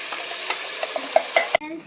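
Ginger garlic paste and tomato fry in a pan for chicken biryani, sizzling steadily while a spoon scrapes and clicks in a quick irregular stirring rhythm, close up, ending in a sudden cut.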